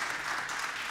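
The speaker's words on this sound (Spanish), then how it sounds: "Aplauso" Steady applause from a group at a panel discussion on remote work, dense clapping filling the whole moment with no pauses.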